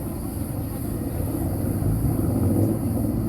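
Deep low rumble of helicopters droning overhead during the Dalaman wildfire, steady and slightly swelling, with no voices.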